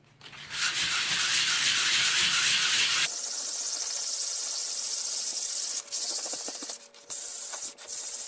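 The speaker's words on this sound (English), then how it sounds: "I'm going to go with an 80 grit." Steady close-up scratching of 80 grit sandpaper rubbing over wood to fill a channel with sawdust for a copper inlay, loud and continuous, shifting to a lighter, thinner stroke partway through with brief pauses near the end.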